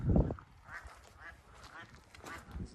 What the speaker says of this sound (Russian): такой пруд импровизированный, лебеди, утки.